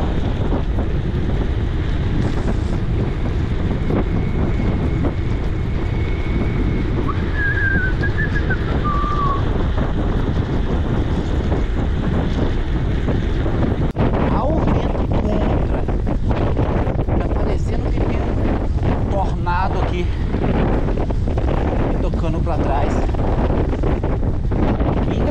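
Strong wind buffets the microphone while cycling on a gravel road, a loud continuous roar that never lets up, with faint rattles and crunching underneath and no talking.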